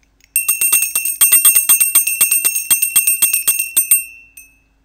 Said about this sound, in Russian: Послушайте колокольчик.